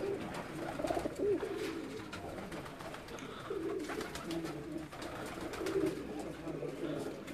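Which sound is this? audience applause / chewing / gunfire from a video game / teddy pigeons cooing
teddy pigeons cooing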